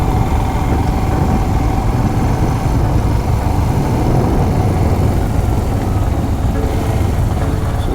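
A Royal Enfield Himalayan motorcycle engine idles steadily after warming up, a continuous low rumble held at an even level throughout with no talk.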